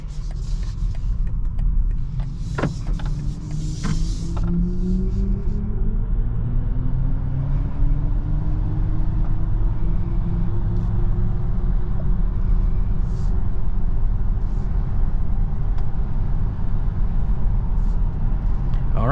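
Cabin of a 2022 BMW i4 M50 electric sedan on the move: a steady low road rumble and soft tire roar fill the space continuously, with a faint hum rising and falling and no voices.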